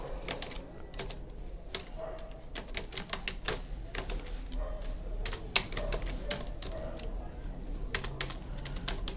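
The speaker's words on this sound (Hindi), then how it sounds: "इस पे जब भी आपको टाइप करना हो" Fingers type on a computer keyboard at a desk, producing quiet, irregular bursts of light clicks that run steadily throughout against a faint background hum.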